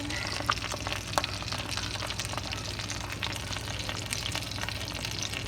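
Hot link sausage cooks in a pan with a soft, steady sizzle, faint and continuous, with occasional small pops crackling above the hiss.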